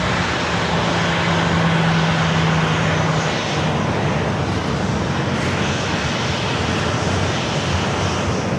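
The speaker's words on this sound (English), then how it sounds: "This flight heading to Seattle, flight 1137, 737-900ER." A Boeing 737-900ER jet taking off at San Diego airport on a flight to Seattle, its engine roar a steady, loud broadband rumble holding throughout with a faint low drone early on.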